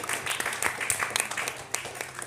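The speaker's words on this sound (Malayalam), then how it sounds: "ഒരു ക്ലാപ്പ് കൊടുത്തേ." Audience clapping at a children's television programme, a steady patter of many hands at moderate, slightly distant loudness throughout the short stretch.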